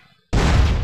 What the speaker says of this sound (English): Such a tiny explosion here.